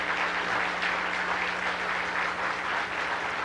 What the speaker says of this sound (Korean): 박수로 사모님